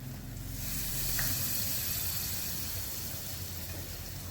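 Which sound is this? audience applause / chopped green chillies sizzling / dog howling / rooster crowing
chopped green chillies sizzling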